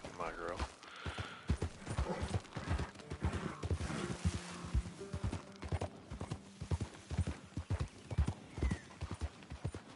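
Horse hooves clip-clop steadily in Red Dead Redemption 2, a sharp rhythmic stream of hoofbeats running the whole time, with a voice talking over it now and then.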